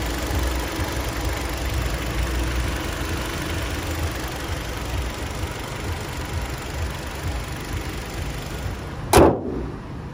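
Imported 2010 Hyundai Sonata Y20 with a 2.0 engine idles with the hood open, a smooth, steady low hum held for about nine seconds before a brief thump near the end.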